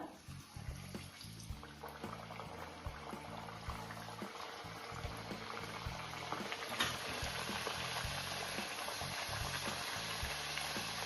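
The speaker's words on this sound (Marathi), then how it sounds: "तेलही तापलेलं आहे. आता आपण तळायला घेऊया." Aloo methi puris frying in heated oil, a continuous bubbling sizzle close by, steady and moderately quiet, swelling slightly louder in the second half.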